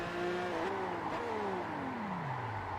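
A car engine in the racing video game Test Drive Unlimited revs and accelerates continuously, its pitch climbing through gear shifts and then sweeping downward, loud and close with no talking.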